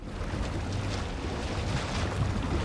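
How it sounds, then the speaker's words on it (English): Water sounds from a small pool on the Overwatch 2 Midtown map heard as a steady, dense wash of lapping and rushing water, unbroken and fairly loud, with no voices over it. "A little pool out here, which with water sounds"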